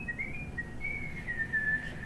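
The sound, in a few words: children whistling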